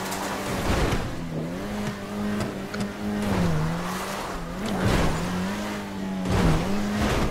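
Car engine in GTA 5 hums steadily throughout, its pitch wavering up and down as the driver accelerates and eases off, with occasional tire noise and no talking.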